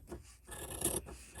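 Scissors trim the fabric edge of a small quilt block, a brief close rasping cut that swells and fades over about a second with no talking.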